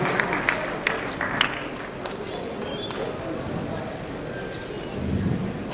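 Loud sustained applause from an audience at an Urdu poetry and song gathering, a dense continuous patter of clapping with a few sharper claps standing out near the start.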